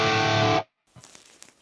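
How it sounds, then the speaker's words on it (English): Electric guitar played through an FM3 with a 6160 lead amp patch, delay and reverb off, a short burst of thick distorted chord that cuts off abruptly, followed by faint handling noise. "So this is the 6160 lead patch first."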